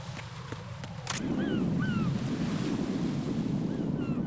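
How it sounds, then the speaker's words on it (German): A strong gust of wind rises suddenly in the Metal Gear Solid 2 video game and settles into a steady, roaring rush that carries on to the end, with faint seagull-like cries above it. "Ich warte mal auf so einen Windstoß hier ab."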